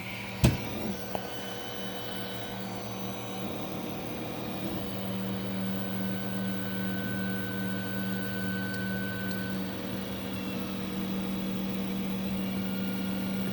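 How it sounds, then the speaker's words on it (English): The y-axis motor of an Alfawise U30 3D printer running rough, a steady close mechanical hum with a faint jittery buzz, following a sharp click at the start. "It almost sounds like the motor is jittering."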